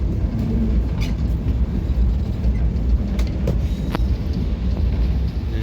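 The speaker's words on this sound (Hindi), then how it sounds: "रेलवे स्टेशन से ट्रेन गुजर रही है" A Pakistani passenger train rolls slowly through a railway station, a loud, continuous low rumble of wheels and carriages with faint rail clatter and occasional sharp clicks, no voices.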